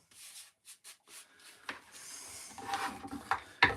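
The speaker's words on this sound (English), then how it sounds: "to have to use a rougher sandpaper." Coarse sandpaper rubs over wood in short, quiet strokes, first spaced apart and then running together into longer, scratchier passes, heard close up with no talking.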